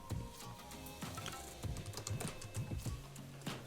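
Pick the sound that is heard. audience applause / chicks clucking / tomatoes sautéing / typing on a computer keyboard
typing on a computer keyboard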